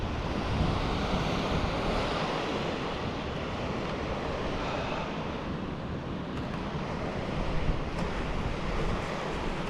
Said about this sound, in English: the waterfalls are flowing over the rocks quite nice